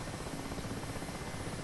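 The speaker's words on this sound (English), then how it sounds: "So that is the helicopter now ready to fly." Mi-8 Hip helicopter in the DCS World flight simulator, with a steady, loud rotor and turbine drone holding constant and close throughout, no voices.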